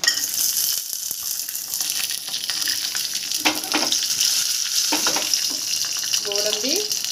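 Gond frying in ghee in a pan, giving a continuous close sizzle and crackle with scattered clinks and scrapes of a spoon, fairly loud, with brief faint sounds in the background.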